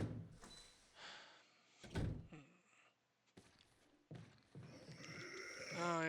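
Door in the Resident Evil Remake game, a heavy creaking, grinding swing with a thud, set among other scattered game noises in short bursts, fairly quiet overall.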